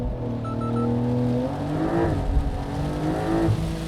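A rear-wheel-drive Porsche 911 Carrera launches from a standstill in Sport Plus mode, its flat-six engine revving hard and climbing through gears with rising pitch and brief shift dips, loud and close throughout with no talk.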